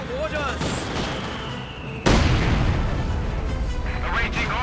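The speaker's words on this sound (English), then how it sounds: "Quick grenade there across the debris" Grenade explosion in Company of Heroes 2, a sudden loud broadband blast at about two seconds that leaves a sustained rumble of battle noise, following earlier gunfire and a commentator's voice.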